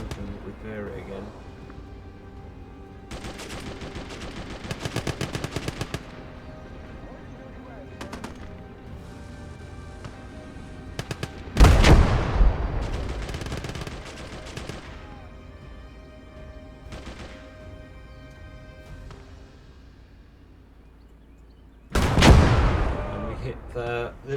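Gunfire and artillery from the World War II strategy game Call to Arms – Gate of Hell, with scattered shots, rapid bursts and two heavy booms, mostly under steady background noise.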